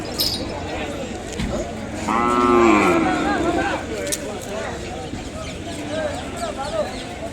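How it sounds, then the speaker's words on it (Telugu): Ongole calves at a busy weekly livestock market give a clear, drawn-out moo near the middle, set against crowd noise and people talking nearby. "ఈ 2 జత పళ్ళు ఉన్నాయండి దూడలు, చాలా బాగున్నాయి."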